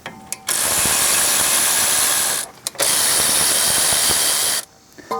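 Rapid, rasping bursts of a ratchet loosen the brake caliper bolts on a 2013-2017 Honda Accord. Two long, loud runs are separated by a short pause, with no talk.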